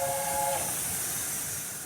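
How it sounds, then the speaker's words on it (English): An A4 steam locomotive's whistle sounds as a short, clear harmonic tone for about half a second at the start. It fades into a loud, continuous hiss of steam and rumbling train noise. "here's the whistle"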